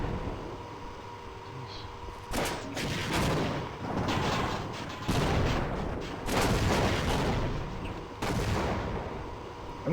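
Gunfire rings out in the Sven Co-op shooter game, several loud bursts of repeated shots separated by brief pauses, with a low background hum between them.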